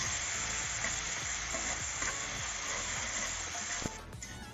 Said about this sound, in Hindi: अब इसमें मसाला डाल देंगे। इसे अच्छी तरह से भून लेंगे।